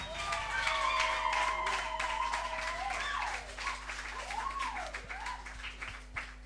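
Church congregation claps for Jesus in a rapid, continuous patter of many hands, with voices calling out and cheering over it at moderate distance, the clapping easing slightly toward the end.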